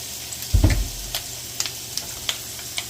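Potatoes drop into hot seasoned oil with a thick burst, then fry and sizzle steadily, with a few light clicks of stirring over the crackle.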